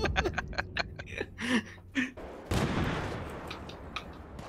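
Video game gunfire: a quick burst of sharp shots followed by a loud blast that trails off into a rumbling tail, mixed with faint laughter.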